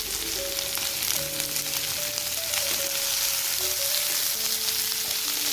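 Onions with green chilies and small pieces of ginger sizzle steadily in a pan for a masala curry, with a continuous hiss and occasional stirring scrapes, close and alone.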